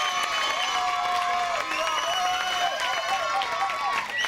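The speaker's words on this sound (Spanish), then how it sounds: "Vamos a darle un fuerte aplauso a un amigo mío" Audience applause and cheering for a guitarist at an outdoor beach-festival opening event in Telde: a dense, continuous wash of clapping and crowd noise with whistles and shouted voices running through it for the whole stretch.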